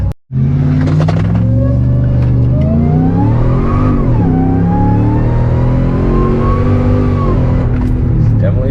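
A Dodge Ram 1500 pickup with a swapped Hellcat engine accelerates hard while driving, a loud deep rumble with engine pitch climbing, dipping at a shift, then rising again steadily.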